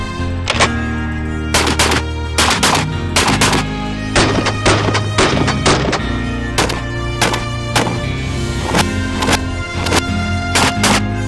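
Beretta 1301 Tactical semi-auto shotgun hip-fired in rapid strings, loud sharp blasts coming in quick bursts and singles with a low rumbling bed underneath, close and dominant throughout.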